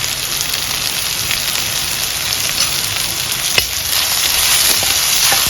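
Curry prawns stir-frying in a pan, a loud steady sizzle with occasional sharp ticks and spatters, growing slightly stronger toward the end.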